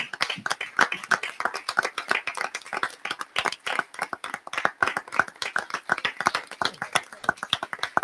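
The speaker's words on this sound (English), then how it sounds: "So I just want to give them a big round of applause." An audience at a school committee meeting claps for students, a steady run of sharp, moderately loud handclaps lasting the whole stretch without talk.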